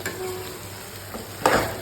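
Onions frying in a pan for a tempering, with a soft steady sizzle and a brief louder stirring scrape near the end.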